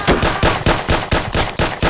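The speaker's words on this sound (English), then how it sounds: "Shots fired! Hold fire!" A rapid burst of roughly eight close, loud gunshots rings out in an even rhythm during a police tactical team entry, each crack sharp and reverberant, with no talk over them.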